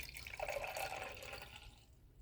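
Water is poured by hand into the reservoir of a small home coffee machine, a short, close trickle and splash lasting under two seconds before fading out.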